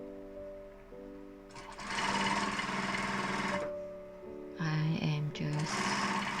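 A sewing machine stitches the final side seam of a fabric joey pouch in two sustained bursts of rapid mechanical whirring, close and loud, with a person talking briefly between and around the runs.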